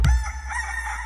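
A rooster crows once close by, a loud harmonic call sustained over about a second after a brief sharp onset, with no talk over it.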